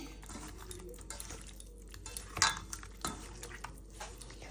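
Snakehead fish being hand-mixed with turmeric, chili and salt in a kitchen pot, giving soft wet squelches and light clinks of metal dishware, one sharper clatter midway, no talking.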